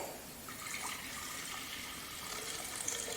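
Water pours steadily into a glass jar from a 250 ml measure, a continuous close splashing trickle that lasts the whole moment without a break.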